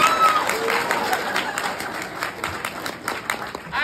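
The crowd at a fraternity probate show for the Iota Phi Theta chapter at UCF claps and cheers in a steady, moderately loud wash. The applause is mixed with crowd noise and scattered voices throughout.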